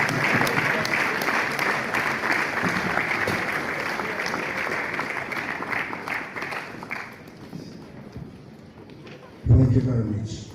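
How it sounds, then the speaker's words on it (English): An audience at an annual lecture series and scientific session applauds loudly and steadily for several seconds, the clapping thinning out before a voice begins to speak. "Please keep clapping till he takes his seat."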